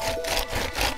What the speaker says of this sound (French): il est en train de scier le truc en deux secondes